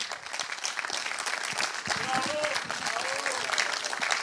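Audience applause for a speaker at an Odoo inventory talk, steady clapping from a seated crowd filling the whole stretch at moderate level, with a voice briefly audible over it.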